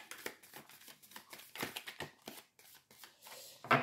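Tarot cards being shuffled close up, with quick papery riffles and slaps in irregular bursts and a sharper rustle at the end, no voice over them.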